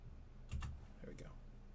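Computer keyboard shortcuts typed for Finale note entry: a few quick close keystrokes in two short bursts, with soft room noise around them.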